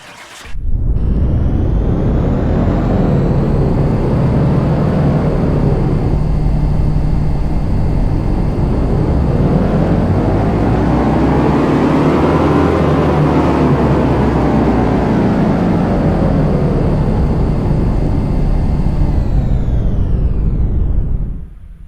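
A Hemi V8 engine in Car Mechanic Simulator 2018 runs loud and steady, its revving drone swelling in pitch through the middle before easing off, with no talking over it.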